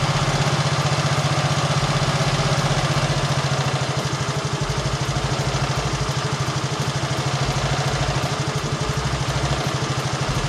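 A Hero Duet scooter fitted with an LPG kit idles close by with its idle screw adjusted, a steady, even putter that holds continuously from start to finish.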